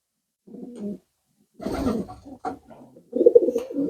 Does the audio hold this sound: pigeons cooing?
yes